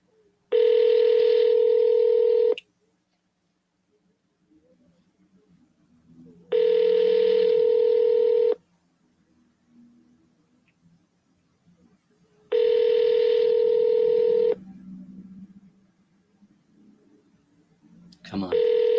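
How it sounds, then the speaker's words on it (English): During a phone call, a telephone produces three long, steady ringback-style tones of about two seconds each, separated by quiet gaps with faint background noise and a voice, before another tone begins at the end. "We're going to double dial as well."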